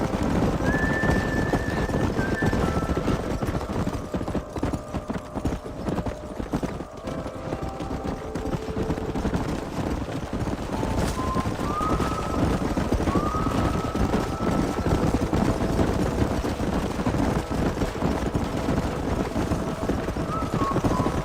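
Continuous rumble of many hooves galloping in Red Dead Redemption, with occasional whinnies rising over the steady pounding, and voices talking now and then.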